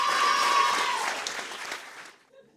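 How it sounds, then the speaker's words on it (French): A comedy-show audience claps loudly and steadily for a young comedian, the applause thinning and fading out toward the end into quiet. "Faites un tonnerre d'applaudissements à 14 ans"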